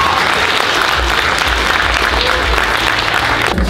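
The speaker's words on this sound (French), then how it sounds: "Félicitations, nous applaudissons bien fort." An audience at a school prize-giving for a young writers' competition gives loud, dense, sustained applause, continuous throughout and close.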